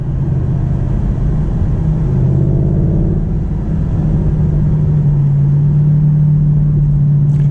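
A nearby car on the road beside a Mercedes SLS AMG accelerates, its engine giving a steady, loud low rumble that holds throughout with no talk over it.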